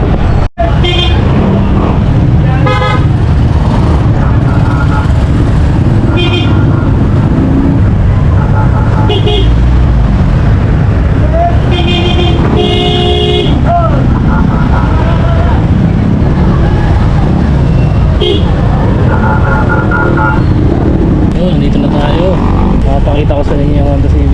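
Riding a motorcycle through congested city traffic: a loud, close engine drone runs throughout, with repeated car horn toots and honks from surrounding vehicles, and a voice talks over the traffic noise.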